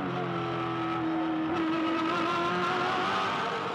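Race car engine held at the rev limiter in fourth gear during the 2007 Bathurst 1000 top-ten shootout, a loud, sustained high-pitched onboard howl with slight stuttering, and no talk.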